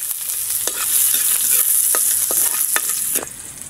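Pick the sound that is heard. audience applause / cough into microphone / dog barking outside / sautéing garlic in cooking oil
sautéing garlic in cooking oil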